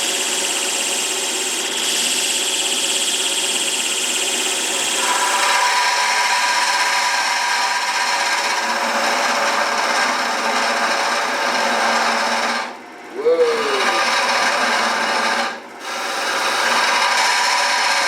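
A gouge cutting red oak spinning on a wood lathe, a steady close hiss and rasp that shifts in tone as the cut changes, broken by two short dips where the tool lifts away.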